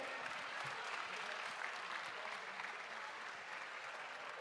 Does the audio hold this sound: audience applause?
yes